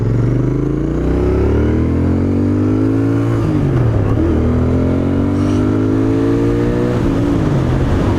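A Royal Enfield Interceptor 650 motorcycle engine revs up loudly and continuously in second gear, its pitch climbing steadily with a brief dip partway through, strong and close with rushing wind noise.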